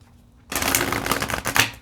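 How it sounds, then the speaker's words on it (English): A deck of cards is shuffled up close in one dense, loud flurry of riffling that follows a quiet pause, with no speech. "Let's shuffle one more time."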